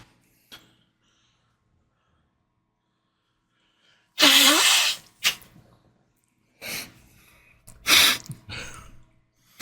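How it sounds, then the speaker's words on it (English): A single sharp, close sneeze bursts out of near silence, then a second loud burst follows a few seconds later, with short breathy sounds in between and quiet room tone around them. "I had to sneeze."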